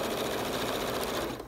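A sewing machine fitted with a 1/4 inch presser foot runs in a steady, close, continuous whir with no pauses and no voices.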